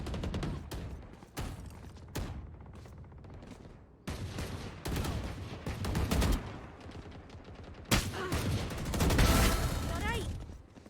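Rapid video game gunfire in repeated bursts separated by short pauses, loud and close, with a voice talking between the volleys.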